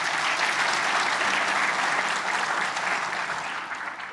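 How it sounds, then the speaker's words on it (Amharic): Sustained applause from a seated audience at a motivational talk, dense and steady clapping that holds loud for about four seconds before easing slightly at the end, with no voices over it. "አጨብጭቡ ለዚህ"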